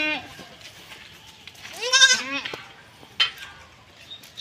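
Goats bleat in short, wavering cries, one loud call near the middle and a few fainter ones around it, close by with light background noise.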